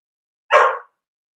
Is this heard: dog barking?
yes